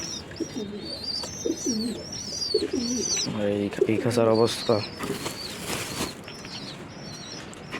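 Pigeons coo close by inside a cage, with a burst of wing flapping midway, while a person talks over them.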